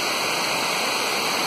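A waterfall near the Cachoeira dos Pretos falls in Brazil, giving a steady, continuous broadband rush of falling water that stays even and fairly close throughout, with no talking.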